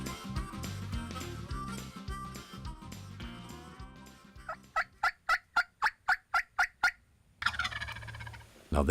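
A wild turkey gobbles in a quick series of loud, rattling bursts, following a stretch of rustling and other calls, with another sharp call at the end.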